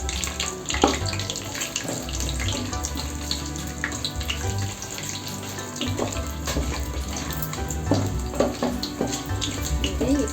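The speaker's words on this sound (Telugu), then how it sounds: "ఇది ఇట్లా బాగా వేగిపోవాలండి." Whole spices, among them mace, marathi moggu and bay leaf, fry in hot ghee and oil for chicken pulao, giving a steady, dense sizzle that runs the whole time with small crackling bursts and no talking.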